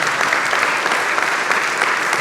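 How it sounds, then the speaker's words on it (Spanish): A congregation applauds steadily inside a church during a sermon, a dense, sustained wash of many hands clapping at once, fairly close and loud, with no pause from start to finish. "Dele un aplauso al Señor."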